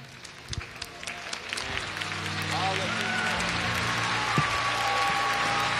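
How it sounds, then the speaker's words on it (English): A congregation at a church healing service breaks into applause, starting with scattered claps and swelling into a steady crowd clapping, with a voice and organ-like tones underneath. "Clap for me. Just clap for me."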